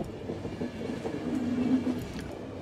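A train in The Final Station rumbles along steadily with a low rolling clatter of wheels on track, continuous and close, with no talk.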